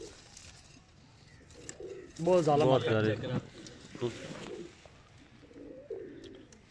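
Pigeons coo in a short burst of throaty, rolling calls close by, with people talking quietly before and after.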